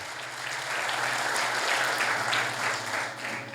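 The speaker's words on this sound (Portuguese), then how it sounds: "ele merece um aplauso" Steady applause from a church congregation during a sermon, dense clapping sustained at an even level from start to finish.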